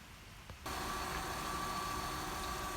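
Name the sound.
newly installed engine running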